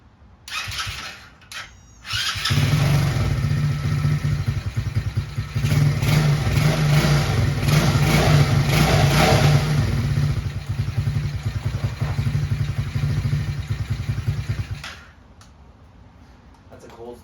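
A Tao Tao ATV that sat unused for years cold-starts after a brief cranking stutter, then idles and revs loudly and steadily for about twelve seconds before cutting off to near silence.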